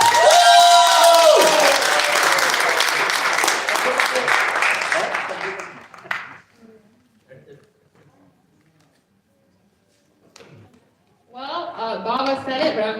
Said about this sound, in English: give a strong round of applause for these children